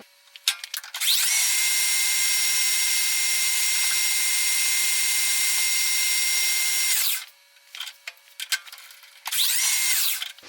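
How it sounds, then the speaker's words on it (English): Metal lathe facing and skimming the outside of a tap handle, a loud, steady high-pitched cutting whine lasting about six seconds, then a brief quieter gap with a few clicks before the cut starts up again. "So we're just going to face that off, take a skim off the outside."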